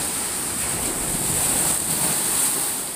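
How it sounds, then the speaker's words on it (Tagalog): Rough sea waves surging in Palamban during a typhoon, a constant loud roar of surf blended with buffeting wind noise against the microphone, no voices. "Yung alon."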